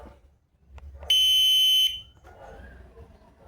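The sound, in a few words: bicycle alarm ringer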